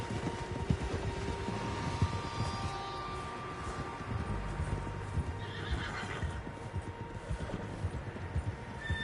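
Several horses in the video game Red Dead Redemption 2 clip-clop along at a steady pace, and one neighs partway through.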